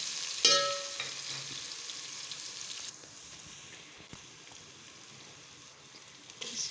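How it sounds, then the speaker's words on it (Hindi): Garlic and green chillies fry in a pan over already-fried onions, giving a steady, fairly quiet sizzle with a brief louder crackle near the start that softens after a few seconds. "लहसुन और हरी मिर्चें, इनको थोड़ा सा फ्राई करूँगी।"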